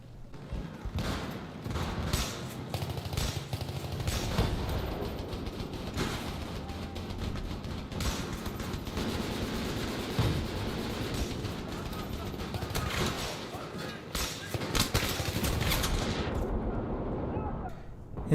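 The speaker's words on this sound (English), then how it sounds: "And that was my brief moment with a suppressed Spas-12." A suppressed Spas-12 shotgun fires repeatedly in Battlefield 3 amid dense in-game gunfire and explosions, a continuous loud barrage of battle sounds with a voice talking over it.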